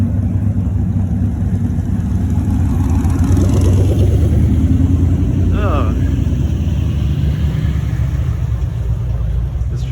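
Hot rod cars idle and rumble at a drag racing event, a steady low engine drone throughout with a brief revving swell midway, under continuous crowd and pit chatter.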